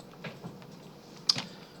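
A few faint, scattered key clicks come from a computer keyboard during a programming lesson on writing abstract classes in code.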